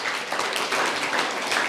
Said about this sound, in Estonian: Teeme talle ka väikse aplausi.